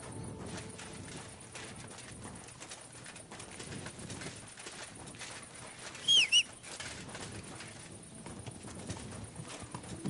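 Horse hooves clip-clopping in the video game Kingdom Come Deliverance II, a faint steady rhythmic gait under ambient outdoor game sound, with a brief louder burst midway.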